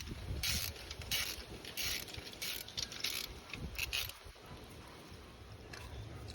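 A ratchet loosens the bolts on a car's spark plug ignition coils in quick bursts of clicking, fairly close and quiet, with short pauses between strokes and a faint background hum.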